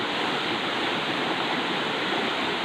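Strong floodwater rushes down a river where a wooden bridge was washed away, a loud, continuous roar of churning water that fills the whole stretch, close and unbroken, with no voices.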